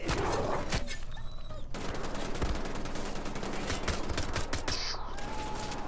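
Loud, close gunfire in the video game Wolfenstein: The Old Blood, with rapid sharp shots in dense bursts and scattered game effects between them.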